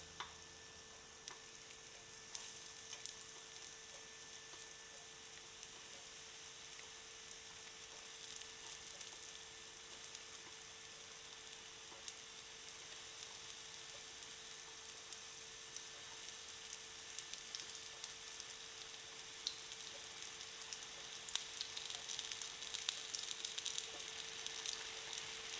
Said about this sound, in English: We will fry on a medium heat and placing our cutlets